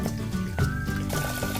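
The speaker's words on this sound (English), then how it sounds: "Right now I'm just filling up the sink with a little bit of water." A bathroom or kitchen sink fills from the tap with a steady rushing, bubbling stream of water, close and continuous, with a faint tonal hum underneath.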